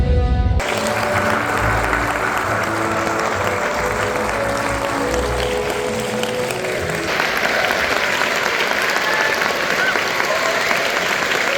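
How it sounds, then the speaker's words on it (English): Loud, sustained applause from a festival audience welcoming director Tarsem Singh at a BeyondFest screening Q&A, dense clapping filling the room with a brief murmur of voices at the start. "Let's keep the applause going and welcome our director, Tarsem Singh."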